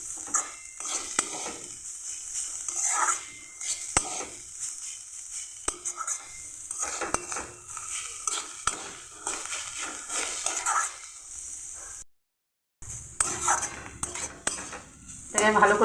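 Chili and turmeric powder spice paste frying in a pan for a cauliflower dish, with frequent metal spoon scrapes and clinks against the pan over a low sizzle, broken by a brief silent gap near the end.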